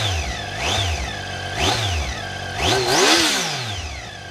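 A Triumph Tiger 800 motorcycle's 95-horsepower inline three-cylinder engine, derived from the Street Triple 675, revs up and falls back three times in quick succession, close and loud, the last rev the strongest.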